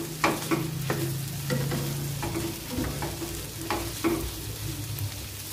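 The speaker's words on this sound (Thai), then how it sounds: "เอามาทอดเป็นชิ้น" Slices of naem, Thai fermented pork sausage, fry in a pan, giving a steady close sizzle broken by repeated utensil scrapes and taps as the pieces are stirred, with no voices.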